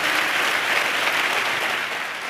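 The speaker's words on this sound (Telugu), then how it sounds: "చప్పట్లు కొడితే యేసయ్యకు స్తోత్రాలు చెప్దాం" A church congregation at a sermon claps in praise of Jesus, a dense, sustained wash of applause that fills the room and tapers slightly at the end.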